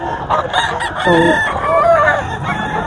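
A White Hatch gamecock rooster crows loudly and close by at a Bocaue market, its drawn-out call rising and wavering over a few seconds with faint background bustle.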